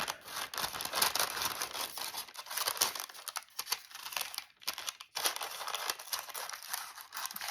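Scissors snip and crinkle through very fine tissue paper and tracing paper, a busy run of crisp cuts and rustles with short pauses between bursts, close and clear with no talking.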